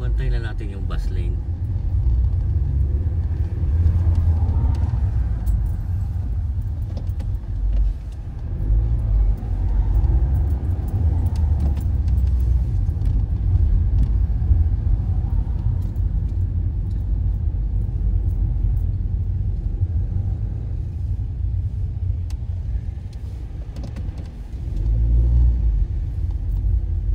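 Car driving through city centre traffic in Manchester, heard from inside as a steady low engine rumble and road noise lasting throughout, with occasional faint surrounding traffic sounds.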